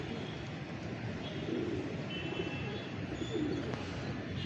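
Pigeons give soft, low cooing calls, faint and at close range, over a quiet background hum.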